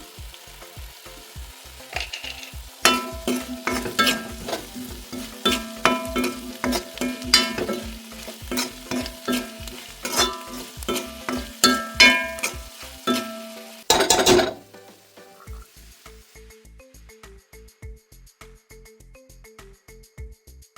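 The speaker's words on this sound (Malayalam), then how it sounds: "ഇനി ഇതിലേക്ക് പൊടിച്ചു വച്ചിരിക്കുന്ന ജീരകം ഇട്ട് കൊടുക്കാം" Ground cumin added to a pan for onion sambar and fried with steady stirring; a close, continuous sizzle with rhythmic spoon scrapes that drop to a quieter bubbling simmer near the end.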